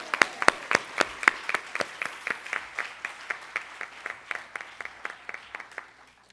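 An audience at an education conference claps together in a steady, rhythmic beat, loud and close at first and gradually thinning out.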